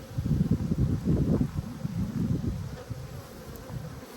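A dense, close hum of honey bees fills the air around an opened hive in an apiary, loudest early on and then settling into a steadier drone, with light wind rustle and no talking.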